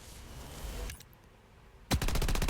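Gunfire effect from the shooter game Blood Strike: a muffled shot, then a short gap, then a loud rapid burst of automatic fire. There is no voice over it.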